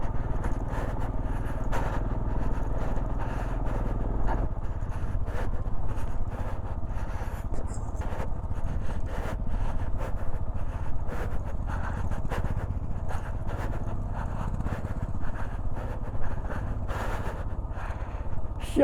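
A motorcycle ridden off-road on rough Himalayan mountain tracks near Komic, Langza and Kaza, its engine a steady low rumble mixed with heavy wind buffeting the microphone throughout.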